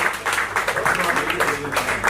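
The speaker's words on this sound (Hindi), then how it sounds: "एक बार जोरदार तालियां भाई।" Audience applause at a Hindi-language book launch and poetry reading, a steady wash of clapping filling the room for about two seconds.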